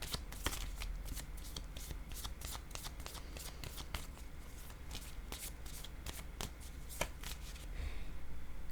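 A deck of playing cards is shuffled by hand: a steady, soft, continuous riffling with crisp repeated flicks over several seconds, quiet and close, with no talking.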